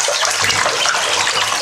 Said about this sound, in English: Right now you're swimming like torpedoes, aren't you? You're soaked.